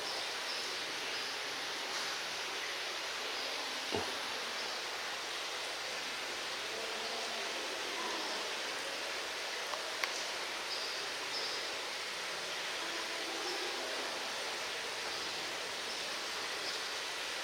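Water flows steadily in a monastery garden in Spain, a continuous hissing rush that holds level throughout with a faint knock or two and no talking.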